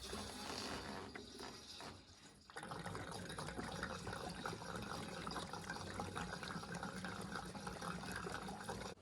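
Fuel pours into an ATV tank in a steady gurgling stream, briefly thinning early on before flowing continuously again, fairly quiet and close, with no voices.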